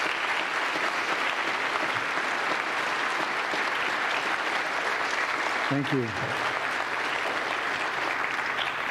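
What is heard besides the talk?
audience applause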